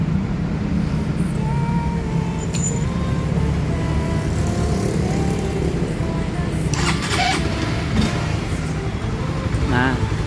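A Honda CB150 motorcycle engine, freshly rebuilt, starts and idles with a steady, close mechanical chatter, while voices talk over it in the background.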